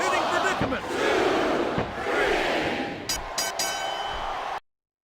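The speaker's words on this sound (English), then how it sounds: "I'm not sure I agree with what the crowd is chanting, JR, but I guess it's their right." A crowd chants in the wrestling video game WWE SmackDown vs. Raw 2007, a loud, swelling arena roar with rhythmic group shouting that rises and falls before cutting off abruptly at the end.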